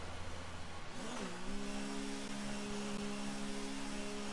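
An F3 race car with front wing damage rolls into the pits during the Hungarian Grand Prix, its engine note droning steadily at mid pitch and shifting down once, loud and continuous with no talk.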